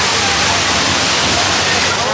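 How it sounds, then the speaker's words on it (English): Rushing water at a water park ride fills everything with a loud, steady broadband roar and splash at close range, with speech likely buried beneath the constant wash. "This ride that propels passengers out to over 1 million gallons of rushing water."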